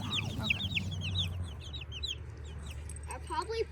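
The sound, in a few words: chickens clucking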